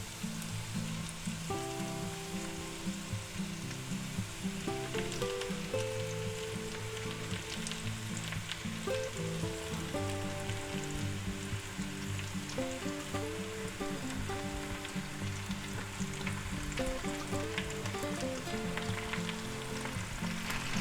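Sliced tender rump roast beef warming and sizzling in a pan, a steady crackling fry running continuously with soft background music and no talk over it.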